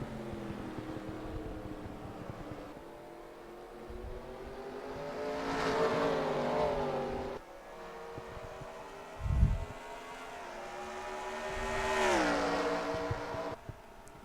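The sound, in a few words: NASCAR race cars at Watkins Glen, video game NR2003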